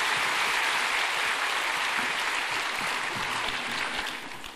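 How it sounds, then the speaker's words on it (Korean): Church congregation applauding to welcome a pastor to the front, a steady, dense wash of clapping that holds at an even level and tapers slightly near the end, with no voices over it. "우리 박수로 주님께 감사함을 환영하겠습니다"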